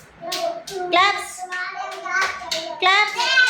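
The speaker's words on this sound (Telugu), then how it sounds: "క్లాప్స్." Children clap their hands in a few sharp bursts, mixed in with lively children's voices chanting and talking.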